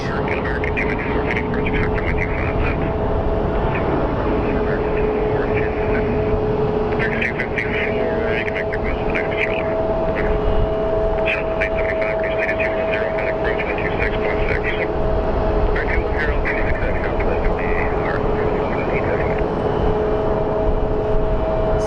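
Airbus A350 airliner engines at Phoenix Sky Harbor International Airport give a steady, loud droning hum with sustained whining tones, while voices talk intermittently over the continuous engine noise.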